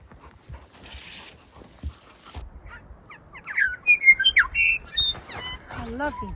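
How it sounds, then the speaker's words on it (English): Birds near a backcountry creek in winter give several quick chirps and warbling calls, close and clear, rising in the second half after quieter rustling and footsteps. "I love these birds, Indi."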